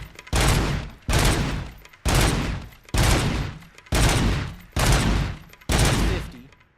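Seven loud, evenly spaced gunshots ring out on a shooting range in the game Robocop: Rogue City, each a sharp crack that trails off before the next, with no talking.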